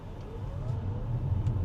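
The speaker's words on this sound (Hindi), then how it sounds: "0 to 100 हम करते हैं, स्पोर्ट मोड में है" An electric SUV pulls away hard in sport mode, traction control left on, for a 0 to 100 run: a brief, faint rising motor whine over low road rumble.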